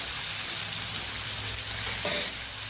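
Spices sauté in hot oil for a Kathiyawadi raw mango curry, making a continuous close hiss with one brief louder burst of crackle near the end.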